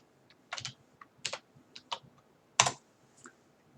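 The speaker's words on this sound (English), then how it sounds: "So I will type enable." A computer keyboard is tapped as a short command is typed into a network device, giving about eight crisp, close clicks in an uneven rhythm with quiet gaps between them.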